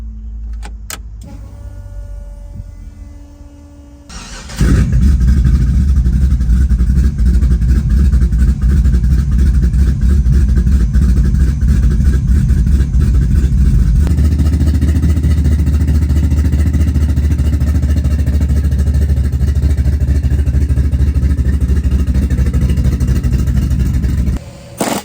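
Chevrolet S10 track truck engine cranking and catching after a few seconds of quiet, then roaring loudly at a steady high idle with revs rising partway through, close and dominant throughout.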